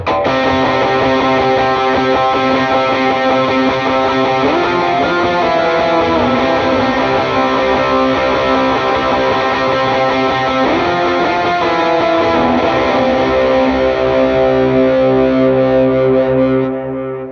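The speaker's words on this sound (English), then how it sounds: "Just a simple plate reverb. You don't want a huge reverb on this, and dotted eighth delay when you play it at tempo 81 BPM." Electric lead guitar melody played at 81 BPM through distortion with a light plate reverb and dotted-eighth delay, sustained notes ringing loud and alone with repeating echoes.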